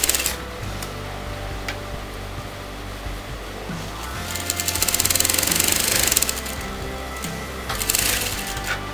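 A sewing machine stitches elastic onto a fabric sleeve, with rapid mechanical chattering in several bursts, a louder stretch midway and brief pauses between runs.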